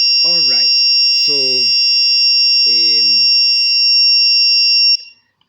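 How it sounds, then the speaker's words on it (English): A darkness detector circuit sounds its alarm, a steady high electronic tone held for about five seconds before cutting off, with a voice speaking briefly over it. "your darkness detector is able to see the shadow of whatever is by, and then it raises an alarm"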